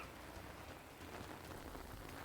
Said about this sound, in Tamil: மாவட்டம் முழுவதும் பரவலாக தற்போது மழை பெய்து வருகிறது